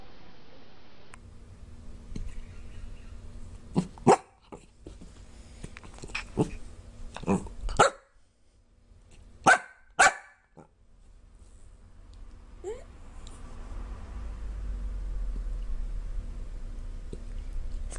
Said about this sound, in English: It's kind of hard to sound tough when you're hiccuping.